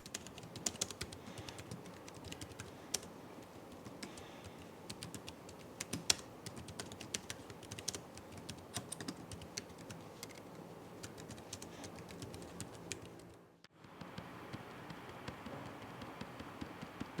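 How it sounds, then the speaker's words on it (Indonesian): Steady, quiet typing on a B033 foldable Bluetooth keyboard with membrane switches, soft muted key taps in a continuous close rhythm with one brief pause near the end. "gimana suara dari si keyboard ini? Berikut ini Gin tampilin hasil pengetesannya."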